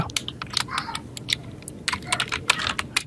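Rapid, irregular keystrokes on a computer keyboard while lettering a restaurant logo design in Photoshop, close and crisp, with no talk over it.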